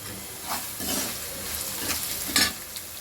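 Onions frying in a pan with asafoetida for a Tamil elephant-foot yam kara kuzhambu, a steady close sizzle and hiss with bursts of crackle as they are stirred, heard with no talking.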